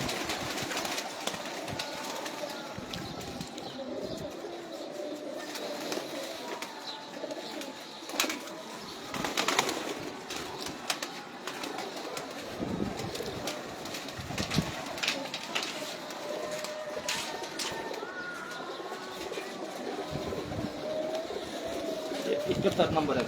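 Teddy pigeons coo on a rooftop. Soft, repeated cooing of several birds runs under people talking nearby, with some scattered rustling and background noise.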